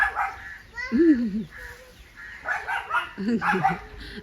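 A dog yips and barks in short bursts nearby, with people talking over and around the barking.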